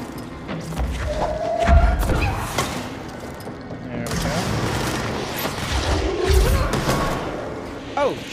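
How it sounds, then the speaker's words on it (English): Grenade blast in the video game Control, heavy low thumps near 1.5–2 s and 6.5 s within a busy layered game mix, with a voice talking over it. "When did he shoot a grenade?"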